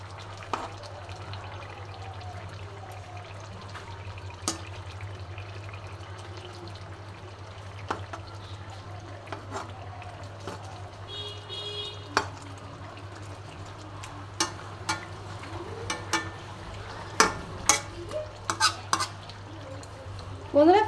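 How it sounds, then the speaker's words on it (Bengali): Fried bata fish is added to a spiced mixture in a pan over a very low flame, with a faint, steady simmer and intermittent utensil clinks and scrapes, growing busier toward the end. "মাছগুলো আমি এর মধ্যে ছেড়ে দিলাম।"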